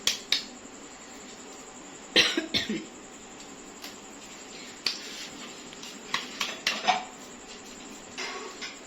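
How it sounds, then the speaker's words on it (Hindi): Several short coughs, triggered by an allergy to the aroma of spices while chapli kebabs are being shaped, come in scattered bursts, some in quick pairs, mixed with faint clinks of utensils and kitchen clatter; no one speaks. "मसालों की खुशबू से मुझे थोड़ी सी एलर्जी है, तो इसमें थोड़ी खांसी शुरू हो जाती है"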